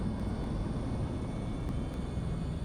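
A light aircraft's engine in the Methow Valley, Washington, drones steadily and loudly at close range, a dense, even rumble that holds without clear rises or falls.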